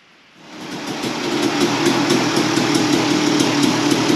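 A Panhead motorcycle engine catches after a quiet moment and settles into a steady, close running rumble with a fast, even pulsing beat.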